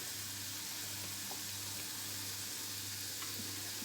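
Onions and garlic caramelize in a pan with a soft, even sizzle, a faint and constant crackle running without pause or voices.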